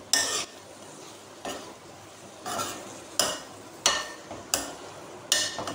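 Onions for a bitter gourd and mince dish are stirred in a hot pan. A spoon scrapes the pan in regular strokes, about one per second, over a constant background sizzle, with no speech.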